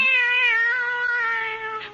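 A cat in an old radio mystery drama meows with a long, drawn-out, tonal call that wavers and fades near the end. The sound is close and clear, with no talking over it.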